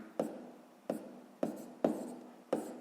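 A pen writes a maths sum on paper in five short, distinct scratching strokes, each a quick tap and scrape, close and quiet with no speech.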